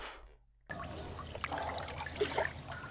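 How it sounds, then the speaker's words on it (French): Water trickling and lapping in a sewer, a steady wet dribble with small splashes and drips, starting after a brief quiet gap and continuing at moderate level. "Petit clapotis."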